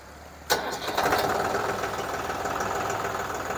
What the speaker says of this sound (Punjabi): ਹੁਣ ਕਿਹੜੀ ਤੁਹਾਨੂੰ ਅਸੀਂ ਸਟਾਰਟਿੰਗ ਵੀ ਵਿਖਾ ਦਿੰਦੇ ਹਾਂ ਟਰੈਕਟਰ ਦੀ ਕਿਹੋ ਜਿਹੀ ਹੈ